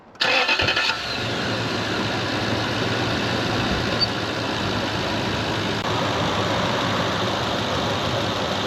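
A 1965 Chevrolet Corvair engine cranks and catches, bursting loudly into life, then settles into a steady, rumbling idle that carries on close by.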